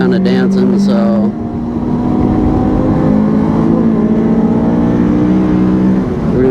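A Honda S2000 accelerates on a race track, its engine note rising loudly through the revs, briefly dropping at a shift, then climbing again, heard from inside with talking over it.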